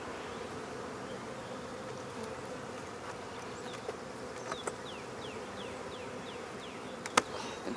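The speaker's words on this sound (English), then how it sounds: "I do see a couple bees with pollen on them" Honey bees hum steadily around an open hive during a spring inspection, a dense, even buzz with a few individual bees passing close by.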